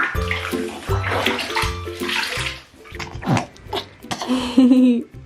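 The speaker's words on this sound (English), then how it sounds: "Then I go back in with the sponge and I rinse all of the soap out." Bathwater sloshing and splashing as a sponge rinses soap off a baby in the tub, close and continuous with uneven swishes and drips, ending in a brief gurgle of water.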